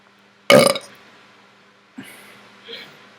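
A single loud, close burp bursts out, followed a moment later by a couple of fainter breathy sounds.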